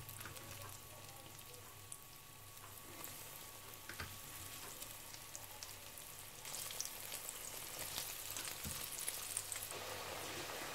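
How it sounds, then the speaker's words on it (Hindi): Eggplant slices frying in hot oil, a continuous soft sizzle and crackle with scattered pops that grows busier toward the end, fairly quiet and close. "तेल जो है वो गर्म हो चुका है, तो आप बड़े एहतियात के साथ आप इसे जो है स्लाइस हैं बैंगन के आप इसमें डालते जाएं"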